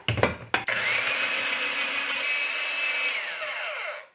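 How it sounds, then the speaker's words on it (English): An electric salad shooter grater whirs steadily as it shreds carrots, a loud continuous motor hum with a whining tone, preceded by a couple of short clunks and stopping with a winding-down fade. "it's called a salad shooter, but it's a little grater"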